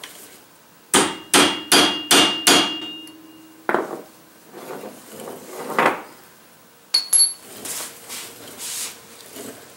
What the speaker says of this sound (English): using a chisel and a hammer, I'm going to mark right in the center of the tie rod end